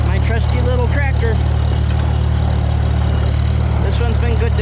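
A Farmall M farm tractor engine idles with a steady low chugging drone while someone talks over it.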